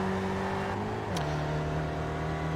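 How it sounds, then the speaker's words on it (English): A race car with a Ford production engine drones steadily in a racing video game, its engine note dropping in pitch partway through as it shifts or eases off, loud and continuous. "It has a Ford engine coming from a production car."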